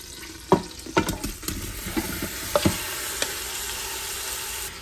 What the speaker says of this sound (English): Once it starts sizzling, you can add the meat in.